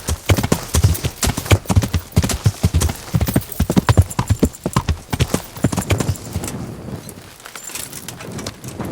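Rhythmic clip-clop of horse hooves at a brisk gait while riding in the video game Kingdom Come: Deliverance, loud and close, with faint bird cooing in the background and no voices.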